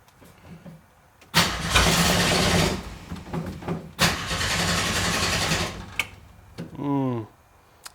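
An engine cranks and catches twice in close succession after being primed with a few pumps, each start a loud, broad roar lasting over a second, followed by a shorter whirring starter burst, with a voice briefly heard between.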